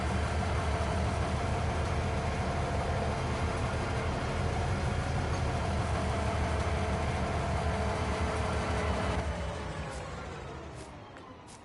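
A steady mechanical rumble and drone from a train car in the Farming Simulator 19 video game continues without a break, then fades slightly toward the end.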